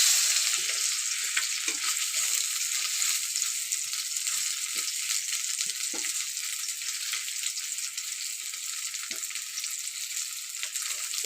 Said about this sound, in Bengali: আর এই চপটা ভাজছি ছেলের জন্য